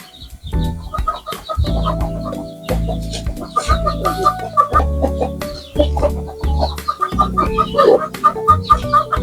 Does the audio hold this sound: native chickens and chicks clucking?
yes